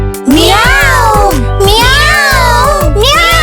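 A voice imitates a cat, giving drawn-out rising and falling meows in sequence, loud and close, over a steady background tone.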